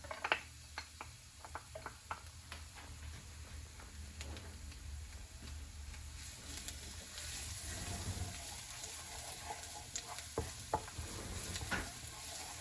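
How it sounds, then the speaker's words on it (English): Garlic browning in a pan for pancit canton gives off a low, steady sizzle, with scattered clicks and scrapes of stirring throughout and a slightly busier patch of frying partway through. "So our first step is we're going to brown our garlic."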